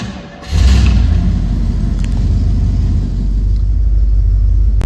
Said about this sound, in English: Let's go fire her up.